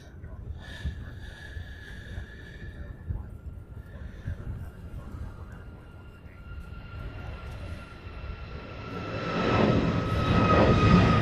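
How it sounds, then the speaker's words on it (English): A UPS Boeing 747 cargo jet taxis along a cargo ramp at a Hawaii airport, its steady engine drone rumbling at moderate distance and swelling louder toward the end. "We also have a UPS 747 that is taxiing down the cargo ramp as we speak"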